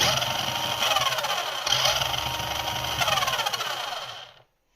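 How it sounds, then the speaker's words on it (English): A nitrous sound effect plays from the speaker of a Trackman 8 1/12-scale RC car modelled on a Lotus 7/Caterham 7, a loud buzzy synthetic engine roar with hissing surges that runs for several seconds and then cuts off abruptly. "Which is the nitrous effect, which I think is pretty cool."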